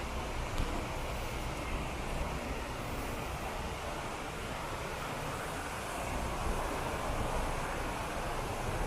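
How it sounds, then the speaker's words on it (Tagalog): Wachirathan Waterfall in Chiang Mai, Thailand, roars as a steady, dense wash of falling water, constant and fairly loud with no pauses, heard close with some wind buffeting the microphone. "The waterfalls is falling."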